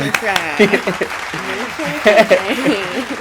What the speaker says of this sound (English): Everybody give a round of applause for Moonshine Tala.